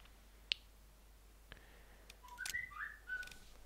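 A brief whistled chime alerts to an incoming message in the Contract Wars video game, rising after a couple of faint clicks, quiet and heard alone over low background hum.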